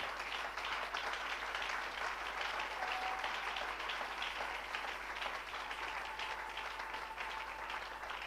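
A church congregation applauds to acclaim the Lord, with sustained, even clapping that fills the space for over eight seconds without pause, heard from a moderate distance.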